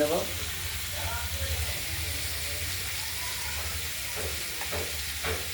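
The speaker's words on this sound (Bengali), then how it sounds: "আমরা এই সরু সরু করে ফালি করা কুমড়োগুলোকে ভেজে দেবো এই সর্ষে লঙ্কা দিয়ে ভাজা হবে কুমড়োটা" Thin pumpkin slices fry in oil tempered with mustard seeds and green chilli, giving a steady broadband sizzle that stays fairly even throughout, with a few soft stirring scrapes near the end.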